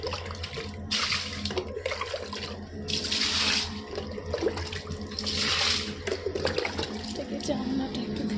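Water gushes from a tap in several splashing bursts while a window is washed, loud and close, with a voice speaking intermittently over it.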